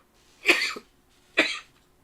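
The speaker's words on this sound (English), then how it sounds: "I'm probably going to cough a bit during the stream" Two close, harsh coughs, a short pause between them, each a raspy burst with nothing else around.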